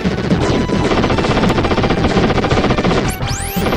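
Rapid gunfire in the Wild Guns video game, a loud, continuous stream of machine-gun shots with retro game effects, closing in a few rising whistling sweeps, with no voices over it.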